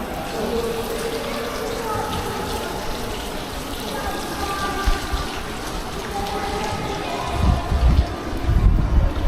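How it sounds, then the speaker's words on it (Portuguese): Fountain water runs steadily in an Istanbul mosque courtyard, a continuous splashing wash with voices and crowd murmur around it and a few louder gushes near the end. "Aqui tem uma fonte, que eu acho que eles bebem água e também se limpam."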